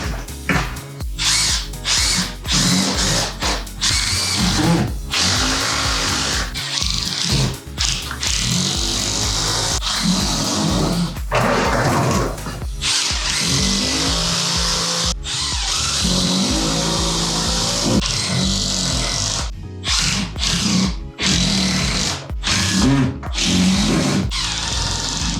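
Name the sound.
power tool driving 2.5-inch screws into OSB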